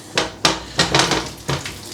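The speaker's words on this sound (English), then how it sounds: "And you should hear a bit of a sizzle." Several bursts of sizzling as potatoes for roasting drop into hot fat, with clattering of a pan between them, close and fairly loud.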